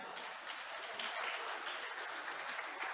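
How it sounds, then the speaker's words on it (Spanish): Applause from a church congregation at a missionary conference fills the room, a dense, steady patter of many hands clapping at even loudness throughout with no talk over it. "Un aplauso."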